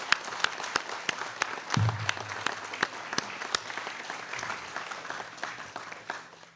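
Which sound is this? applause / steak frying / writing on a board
applause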